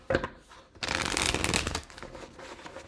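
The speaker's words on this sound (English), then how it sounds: "One more shuffle." Tarot cards are riffled and shuffled close up during a reading, a short dense flurry of crisp flapping card noise that swells for about a second, then settles into lighter rustling.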